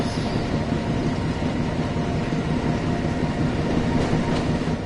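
Train on the West Somerset Railway in Train Sim World, a steady rumbling roll of wheels and carriages heard at moderate distance, continuous with faint clickety-clack and no talk.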